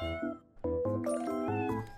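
A cartoon cat meows in a puzzle video game, several short, clear tonal mews one after another, close and isolated with no talking.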